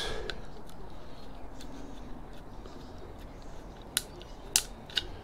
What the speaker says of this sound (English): Hold it in one hand and unscrew it with the other.